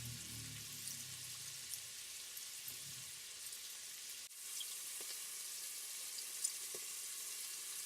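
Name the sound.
beef pieces frying on high heat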